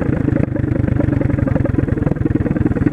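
A 125cc motorcycle engine running through a loud replacement exhaust pipe, giving a steady, throaty, rapid-pulsing rumble up close with slight revving and no talk.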